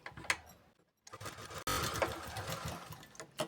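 Sewing machine running straight stitches along folded fabric for a blouse, a close whirring mechanical hum that starts, pauses briefly, then runs steadily.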